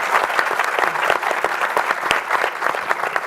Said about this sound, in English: Let's give a huge round of applause to our amazing speakers